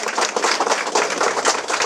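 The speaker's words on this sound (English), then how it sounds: "Can we give him a round of applause for that?" A crowd of residents at Hague Back Dam on the West Coast of Demerara claps steadily for a village leader, dense, even applause filling the space at close range without pause.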